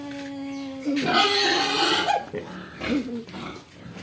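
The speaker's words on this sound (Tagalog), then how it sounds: "Uy, may malaking baboy." Grunting, snorting noises of a large pig on a farm, heard close and mixed with a person talking over them.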